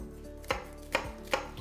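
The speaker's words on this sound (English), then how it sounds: "I'm actually going to give a nice little mince on my shallot" Knife mincing a shallot on a cutting board, three sharp, regular chops close to the mic with quiet pauses between them.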